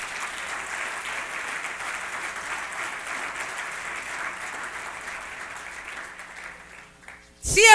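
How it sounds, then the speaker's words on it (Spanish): A church congregation applauds during a Spanish-language service, a steady mid-level wash of clapping that gradually tapers off before a voice cuts in loudly at the very end. "Dale fuerte el aplauso al Señor"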